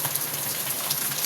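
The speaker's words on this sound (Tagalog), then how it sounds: "Nagrabe ka kusog sa ulan guys." Heavy rain pours down outdoors in a steady, dense hiss that holds at an even loudness throughout, with no voices.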